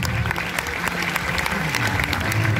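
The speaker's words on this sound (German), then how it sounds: "da kriegt auch mal einen Applaus" An audience at a water-ski stunt show in Holiday Park claps steadily in dense, continuous applause that stays loud from start to finish.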